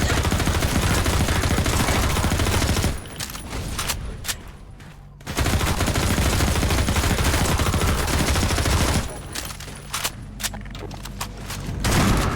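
Rapid bursts of pulse rifle and submachine gun fire in the video game Half-Life 2 rattle loudly in close, sustained volleys, broken by two brief lulls.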